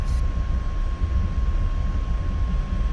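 A military training aircraft speeds down the runway for takeoff, its engine giving a steady, loud drone with a constant whine throughout, close and uninterrupted, with no talk over it.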